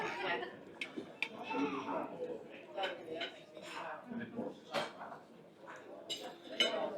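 Knife and fork clink and scrape on a plate while a hotel breakfast fried egg is cut, the light metallic taps scattered under close talking.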